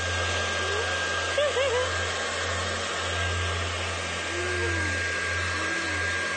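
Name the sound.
hair dryer blowing hair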